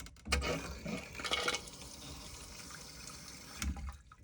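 Cold water flushing through a newly connected washing machine hose during installation on an LG pedestal, a close gushing, splashing rush with a few louder bursts, heard alone.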